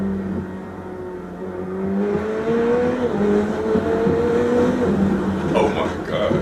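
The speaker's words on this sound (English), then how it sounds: "that twin turbo V8" McLaren 765 with a twin-turbo V8, heard from the open-roof cabin on a canyon drive, the engine note climbing steadily and loud before a sharp burst near the end, with a voice speaking over it.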